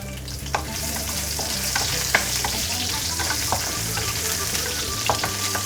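Green chillies frying in a hot tempering for chicken masala, crackling and sizzling steadily at close range with occasional stirring clinks, no talking.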